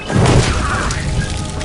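A bomb explodes in the zombie video game Land of the Dead, a loud close boom with a crashing impact at the start that rumbles and decays across the short clip.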